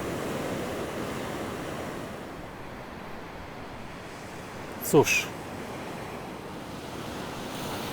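Ocean waves wash steadily onto a beach in Trujillo, Peru, a continuous broad rush mixed with wind noise on the microphone; a person briefly says a single word near the middle.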